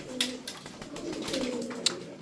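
Tumbler pigeons cooing in a loft, low soft coos under steady background noise with a couple of sharper bird calls, close and moderately loud.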